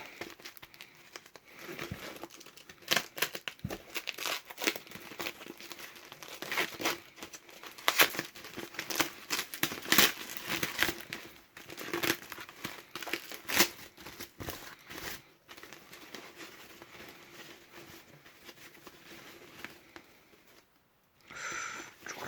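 Packaging crinkles and rustles near at hand as parts for a Yamaha YZF-R25 motorcycle are unboxed, with irregular bursts of crumpling and tearing plastic over about twenty seconds and no talk.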